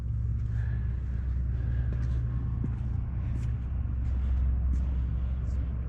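A 1968 Chevrolet Camaro SS with a big-block V8 idles close by, its deep, steady rumble rolling on without a break, with faint speech now and then underneath.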